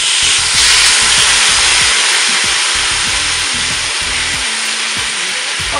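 Marinated food fries in a pan over high heat, giving off a loud, steady sizzle that holds unbroken throughout, with soft scraping and stirring knocks underneath.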